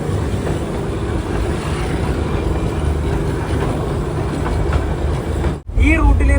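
A Darjeeling Himalayan Railway train runs steadily with a dense, continuous rumble and rattle heard from onboard, then a brief dropout before the noise resumes louder near the end.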